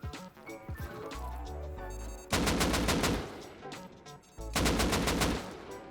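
An automatic smart turret in the survival game Rust powers up with a rising whir and then unleashes two long, loud bursts of rapid machine-gun fire at an enemy, separated by a short pause.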